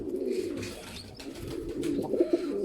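Pigeons coo steadily in a coop for young birds, a close, continuous chorus of low, throaty murmurs layered over one another without pause.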